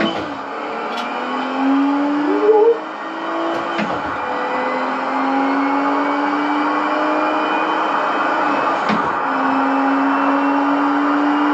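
A BMW 7 Series in the BeamNG driving game hums with a steady simulated engine note, its pitch climbing gradually through gear changes with brief dips between shifts, continuous and fairly loud with no talk.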